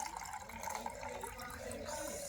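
Water being poured into a container while mixing a homemade acid toilet cleaner, a steady close splashing and trickling fill with no voices.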